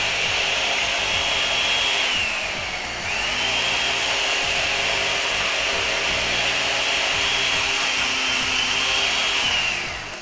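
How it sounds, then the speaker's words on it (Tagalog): An electric blender whirs loudly and steadily while it blends milk until smooth, dipping briefly in pitch partway through before running on at full speed. "i-blend natin sandali ito hanggang pinong-pino po yung ating milk"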